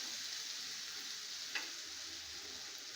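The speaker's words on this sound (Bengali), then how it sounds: "এগুলোকে আমি হালকা করে ভেজে নিয়ে আর কোনো মশলা দেব না" Food lightly frying in a pan for a Bengali dahi katla fish dish, a faint, steady sizzling hiss with one small crackle, heard close with no talking.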